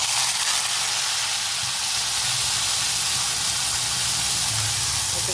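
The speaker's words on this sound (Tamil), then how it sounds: "அதுக்காக தான் இது வந்து பச்சை வாசனை போக நல்லா வதக்கி விடுவோம்" Ground masala paste sautés in hot oil, a loud, dense and unbroken sizzling hiss close at hand with a low rumble beneath it and no talk.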